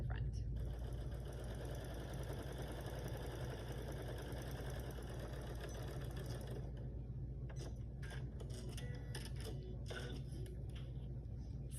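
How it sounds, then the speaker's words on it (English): Janome sewing machine stitching dress seams, a steady continuous mechanical whir with low motor hum running throughout, then tapering into lighter clicks and ticks near the end. "now I'm going to sew those seams just the way I did to the front"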